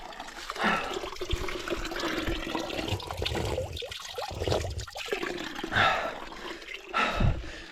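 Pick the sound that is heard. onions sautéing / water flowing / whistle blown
water flowing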